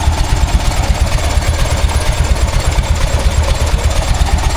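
A vintage Titan 10-20 tractor engine runs at a steam working weekend, a loud, close, rhythmic thumping chug with no pauses.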